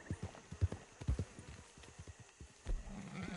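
Horse hooves trot in a steady, soft clip-clop rhythm in the video game Red Dead Redemption 2, fairly faint and close, with no talk over them.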